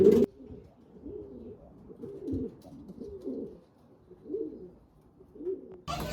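Racing pigeons coo in a loft, a run of soft low burbling calls repeating at a close, moderate level with a few brief louder noises at the very start and end.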